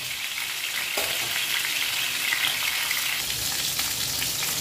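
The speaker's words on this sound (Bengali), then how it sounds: "এক এক পিস 3 মিনিট করে ভেজে নেব" Pieces of chicken for a roast shallow-frying in a pan over medium-low flame, giving a close, continuous hiss and crackle of hot oil that gets slightly louder after the first second, with no talking.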